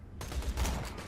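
Gunfire in the shooter video game Borderlands 2, a short burst of rapid crackling shots with no voices.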